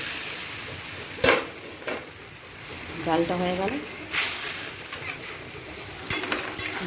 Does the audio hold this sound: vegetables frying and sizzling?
yes